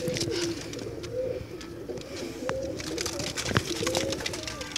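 Breeder pigeon pairs cooing in a loft, repeated soft rolling coos close by over a steady background of other birds and faint chatter.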